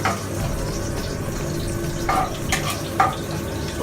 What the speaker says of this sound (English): Everything is sauteing at the same time.